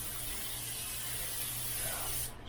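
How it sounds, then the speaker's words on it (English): Cooking spray hisses steadily from a can onto steaks on a griddle, a close, continuous spray lasting a couple of seconds before cutting off. "So I'm just gonna take a little bit of spray."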